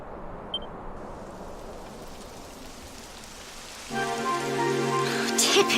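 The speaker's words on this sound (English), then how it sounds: "It would have to go and start raining, wouldn't it?" Rain begins falling in the video game Dragon Quest XI, a soft steady hiss that builds as a music-like tonal layer enters near the end.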